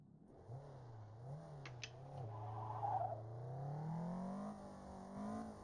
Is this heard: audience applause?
no